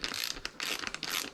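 A ratchet clicks sharply and quickly while a 360 Only carbon harness camera mount is tightened, with several close, dry bursts of ratcheting and no talk.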